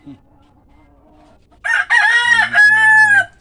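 A rooster crows loudly and close by, a long strained call after a quiet stretch with faint background sound.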